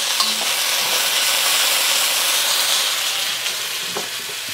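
Bean sprouts stir-fry in a hot pan with a loud, continuous bright sizzle and hiss, steady across the whole stretch, with a couple of faint utensil taps and no voices.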